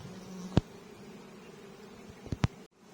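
Honey bees droning at an open hive during an acacia honey flow inspection, a steady low hum throughout with a couple of sharp knocks or clicks from handling the frames.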